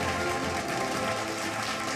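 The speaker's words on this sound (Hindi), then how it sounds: "तो अपने लिए तालियां उठा सकते हैं" Audience applause at an award ceremony, a steady dense wash of clapping from a crowd, continuous and fairly loud throughout.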